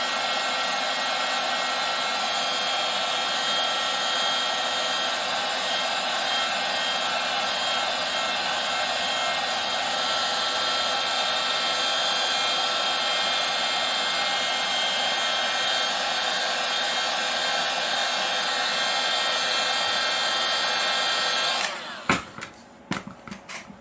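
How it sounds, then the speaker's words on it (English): A heat gun blows hot air to dry acrylic paint, a loud, continuous whooshing hiss held for about twenty seconds before cutting off abruptly with a few clicks. "I'm just going to use my heat gun to expedite the drying process"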